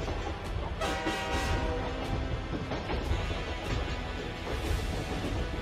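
A cartoon train running along the tracks, with a steady rumbling clatter and repeated horn toots over a busy, continuous background, loud and close throughout.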